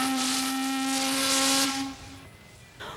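Steam whistle of the Gallia, a paddle steamer, blowing loud and steady with a strong harmonic tone for nearly two seconds, then cutting off and leaving a hiss of steam and faint background noise.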